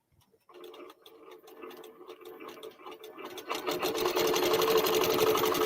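A QBOT V3 quilting machine stitches a mug rug with appliqué, starting with sparse mechanical clicks and buzzes that build into a loud, continuous rapid needle whir.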